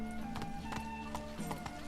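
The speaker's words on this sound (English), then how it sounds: "I can ride my horse through here." Hooves of the horse Roach galloping in The Witcher 3 video game, rapid rhythmic clip-clop beats close up over steady background music.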